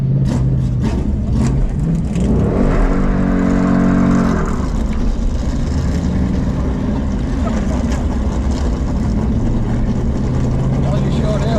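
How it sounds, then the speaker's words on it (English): A NASCAR pace car does a burnout, its engine roaring loudly with steady revving and tire-spin noise that holds for several seconds, then continues as a rough, sustained drone, with voices talking over it. "I'm getting ready to burn these tires off."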